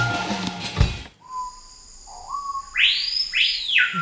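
Screaming piha calling in a field recording, after a short burst of rustling noise, a thin rising whistle and then loud, clear upward-swooping shrieks, close and alone.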